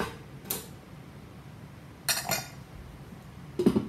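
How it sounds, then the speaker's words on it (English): Ice cubes dropped into a cocktail glass while mixing a ranch water: a few short, bright clinks spaced apart, close and fairly quiet against a faint room hum. "I'm gonna put a couple of these great ice cubes in here."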